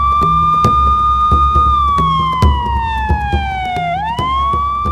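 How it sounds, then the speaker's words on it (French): A police car siren wails close by, a loud, steady tone that slowly drops in pitch and then rises again, over a low vehicle rumble and scattered knocks. "Sous les sirènes de police"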